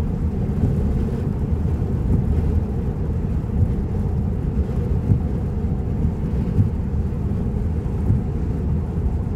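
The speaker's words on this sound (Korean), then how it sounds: "소나기가 내려요." A sudden rain shower pours steadily and loudly, a dense continuous rumble of rain on a vehicle, heard close with no speech.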